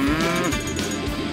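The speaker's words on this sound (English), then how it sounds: "There's a cow!" A cartoon cow moos in the PAW Patrol Rescue World game, a short, fairly loud lowing call with a wavering tone, heard alone against steady game background sound.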